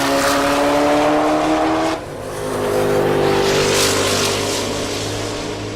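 A Camaro drag racing at Tulsa Raceway Park, a loud sustained engine roar that drops at a gear shift and then surges again, close and continuous with no voices.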